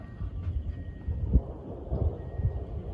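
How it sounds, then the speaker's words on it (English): Low, rolling thunder rumbles through a lightning storm, with a few deeper booms over a steady background rumble and patter of rain, fairly distant and with no talk. "right now we are watching this storm"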